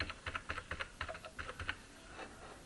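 Fingers tap out a phone number on a computer keyboard in a school office program, a quick run of about a dozen light, close key clicks in an uneven rhythm, then a softer pause and a few faint final taps.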